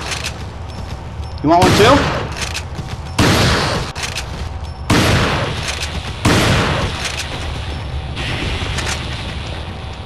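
Shotgun blasts in Resident Evil 4, several loud booming shots spaced a second or two apart, with a player talking between them.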